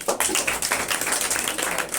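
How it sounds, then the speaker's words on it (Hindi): Classroom of students clapping in a burst of applause for Swami Dayanand, a steady patter of many hands close by filling the whole stretch without pause. "बजाओ उनके लिए ताली।"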